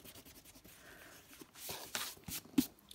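Pencil marks on a drawing are erased with short, brisk rubbing strokes, the dry scrubbing growing louder in a few quick bursts up close.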